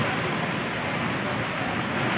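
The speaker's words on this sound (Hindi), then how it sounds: "साथ में झरना देखें आप।" Continuous, dense rushing of a waterfall, a steady hiss and roar with no pauses.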